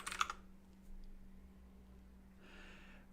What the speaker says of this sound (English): Oh my golly, I forgot how loud my keyboard is.